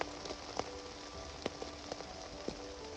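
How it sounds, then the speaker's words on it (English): Steady patter of rain on a surface by the River Wye, with occasional sharper drops tapping nearby against a soft continuous hiss. "It's raining. You really notice the rain when the burner's off."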